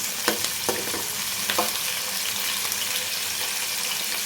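Green chillies and onions stirred into a hot frying pan, giving a steady close sizzle with a few scraping stirs of the spoon near the start, no talking.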